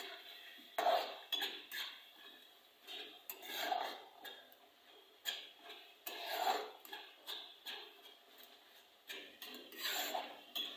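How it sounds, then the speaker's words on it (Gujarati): Metal spoon scraping and clinking against a pan while stirring spices into pav bhaji masala, a faint, steady rhythm of rasping strokes with no talk. "હવે સરસ આને આપણે હલાવી નાખીએ બધા મસાલા મિક્સ કરી નાખીએ"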